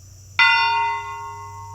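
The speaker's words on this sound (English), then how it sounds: "There is a bell here which we are considering ringing between each name" A single bell struck once at an outdoor memorial ceremony rings out sharply and clearly, its bright metallic tone sustaining and slowly fading over a low background hum.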